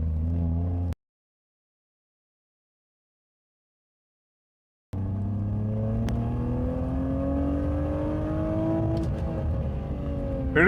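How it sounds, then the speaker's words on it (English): A BMW E46 revs hard in second gear up to the limiter, its engine note climbing steadily and close by. A few seconds of total silence break the run before the rising pull resumes. "Hitting the limiter. So as you see, it's pulling really cleanly now, very clean. This was the second gear pull"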